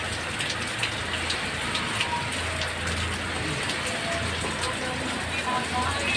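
Heavy rain pours steadily in Urdaneta, Pangasinan, a dense continuous hiss of drops drumming on surfaces, with faint scattered taps and a low rumble underneath, close and unbroken throughout.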